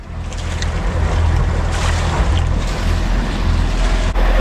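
A boat's engine runs steadily while its cooling water pumps out at the stern, a continuous close, loud rumbling wash with wind noise and no talking.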